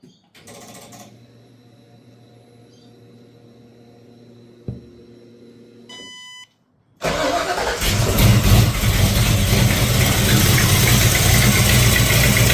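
A Ford Falcon XB GS hardtop with an engine knock cranks over after some quiet clicking and shuffling, then catches and roars into a loud, steady, rough idle close by, with no one talking.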